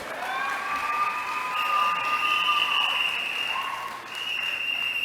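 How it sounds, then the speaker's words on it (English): A crowd at an evening UNC political rally in Trinidad breaks into steady applause and cheering, with loud whistles and shouts rising above the clapping throughout. "Give her a round of applause."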